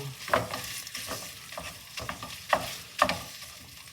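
Ground beef sizzles in a frying pan while a chopping tool scrapes and chops through it in irregular strokes, with a few sharper clacks against the pan.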